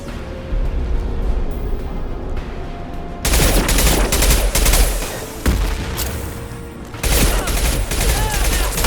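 Sustained rapid gunfire from the Mass Effect Legendary Edition video game: dense, loud bursts of automatic fire and shots in two long stretches with a brief lull between, over a busy combat background.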